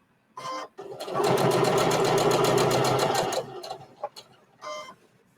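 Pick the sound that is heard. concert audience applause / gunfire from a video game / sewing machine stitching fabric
sewing machine stitching fabric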